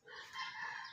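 A young rooster crows once, a short, strained, high cock-a-doodle-doo that is close and clear with no other sound.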